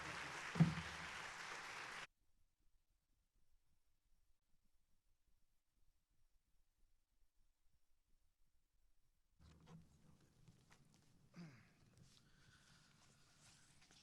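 Audience applause welcoming lecturer Phillip Goff at an evening lecture: a dense two-second burst of clapping that cuts off into near silence, followed later by a faint speaking voice.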